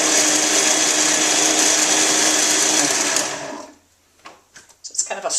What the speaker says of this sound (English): I'm going to take and just blend this up. Somehow I forgot the little piece on the top of my Vitamixer